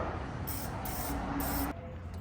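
Mickey Thompson spray lube fired from an aerosol can in three short hissing bursts, fairly close and crisp, over a steady background rumble.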